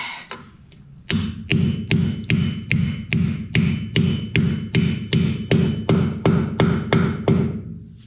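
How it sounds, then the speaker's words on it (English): Hammer blows on a front spindle part of a 1961/1965 VW Beetle during a king and link pin rebuild, about fifteen steady, evenly spaced metallic strikes ringing loud and close after a quieter opening second, with no voices. "I just pound it."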